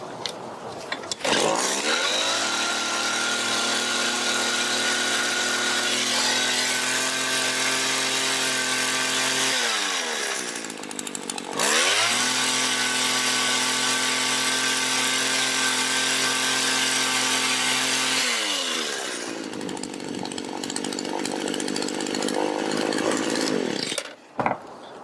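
Small two-stroke engine of a Mac GHT 17 hedge trimmer running after a carburetor rebuild and new hoses, a loud, steady buzzing whine that revs up and drops back twice, then winds down at the end.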